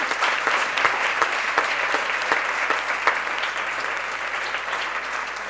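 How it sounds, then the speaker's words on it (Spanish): An audience at a Spanish baby boom summit breaks into a big round of applause, continuous crowd clapping that holds steady and tapers slightly toward the end. "esto se merece un gran aplauso"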